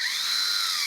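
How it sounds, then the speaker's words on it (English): A power drill whines steadily and loudly as it bores drainage holes through the stripping and aluminum deck rail, one continuous high-pitched grinding burst heard up close without talk. "we're drilling through the stripping, and then we're drilling right through the rail out the bottom"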